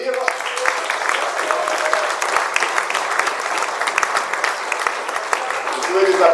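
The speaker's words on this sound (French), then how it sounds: "Vous pouvez les applaudir" A municipal council meeting audience breaks into loud, dense applause that holds steady throughout, with voices heard under the clapping.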